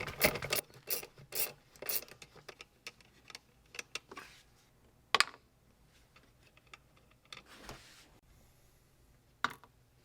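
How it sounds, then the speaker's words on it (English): Socket wrench spinning nuts off under a BMW E46 Touring, a quick series of close ratcheting, rasping bursts followed by scattered faint ticks and clinks. "Put on my socket and spin away."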